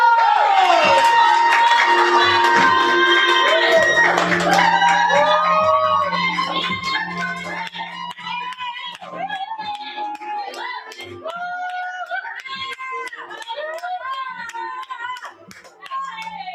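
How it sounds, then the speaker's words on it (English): An open mic comedy crowd cheers, whoops and shouts with some clapping, loud at first and then thinning into scattered calls and voices as the noise trails off. "Make some noise for Angie! Clap till Angie gets to the microphone!"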